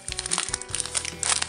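A tea packet's plastic packaging is crinkled and handled up close, giving irregular crackling rustles over about a second and a half, fairly quiet with no talk.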